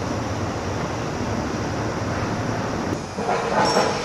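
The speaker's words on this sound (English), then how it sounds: "This is a Lisbon train station." Rumbling train noise fills a Lisbon train station, a steady mechanical roar with faint rattling and a brief shift near the end.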